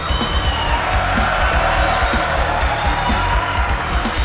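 Steady applause mixed with cheering and a few whoops from the crowd at a Pebble Beach collector car auction after a sale, dense continuous clapping at even loudness throughout.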